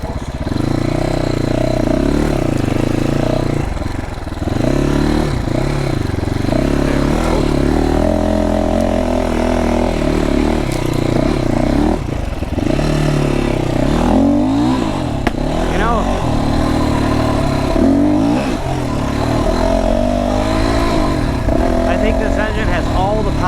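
FSE300R dirt bike engine revving and pulling along a trail, a close, loud, continuous mid-pitched drone with repeated rises and falls in revs, and a rider talking over it.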